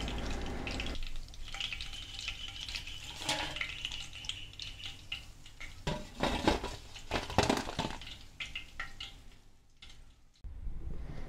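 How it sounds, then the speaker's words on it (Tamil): Chicken pieces for chicken kondattam deep-frying in plenty of oil in a pan, giving a steady crackling sizzle throughout with a few scraping and stirring clatters, close and moderately loud. "இதே மாதிரியே மீதி இருக்கிற சிக்கனையும் நம்ம போட்டு பொரித்து எடுத்துக்கலாம்"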